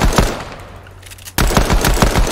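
Pistol gunfire in the video game Fortnite, loud rapid shots in quick succession, a pause with a steady hum, then another fast, close burst of repeated shots with no talking.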